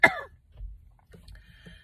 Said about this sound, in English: still have that lingering cough.